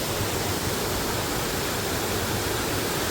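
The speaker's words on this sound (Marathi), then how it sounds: "धबधबा" A roadside waterfall on the way to Lavasa roars as an even, unbroken rush of falling water, loud and close, with no other sounds standing out.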